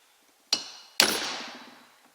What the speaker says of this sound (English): I'm going to go ahead and give it a couple more whacks